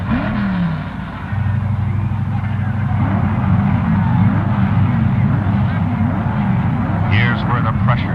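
Drag racing cars at the 1969 NHRA Winternationals rumble and idle at the staging line after warming their tires, a loud, steady low engine drone with rising revs near the end.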